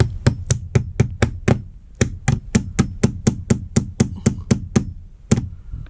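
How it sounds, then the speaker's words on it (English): Rapid, loud metallic hammer strikes on a stuck bolt while fitting roof rails to a Sprinter van, in a steady rhythm, about twenty blows close by, with one brief pause midway. "whack it with the hammer"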